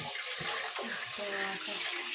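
Tap water runs in a steady hissing gush, close by, with a voice faintly heard underneath.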